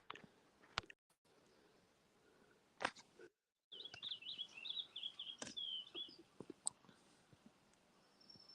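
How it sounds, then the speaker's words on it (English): Birds sing outdoors, a faint chirping and warbling trill in the middle of the stretch, mixed with scattered clicks and handling noises and a brief dropout. "I don't know if you guys can hear them birds, but it's just beautiful."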